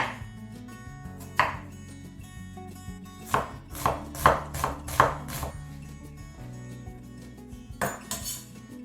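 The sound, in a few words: chopping red onion into small pieces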